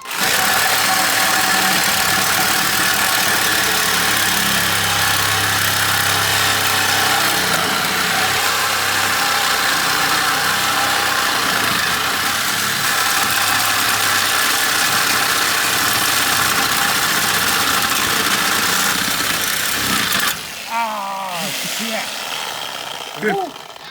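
A 4.6L Triton V8 truck idles with its muffler still fitted, a loud, deep, rumbling exhaust burble that runs steady for a long stretch, then briefly cuts and sputters near the end.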